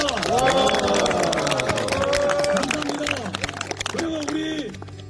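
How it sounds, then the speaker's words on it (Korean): At a mountain-climbing club's opening ceremony, a crowd cheers and claps loudly, with shouts and voices rising over the applause throughout. "우리 각자 각자 영웅을 위해서 뜨거운 박수 함성 부탁드리겠습니다"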